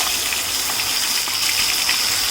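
A ground spice paste sautés in a hot cast iron pan, making a loud, dense, unbroken sizzle and hiss close by for a couple of seconds, with no voices.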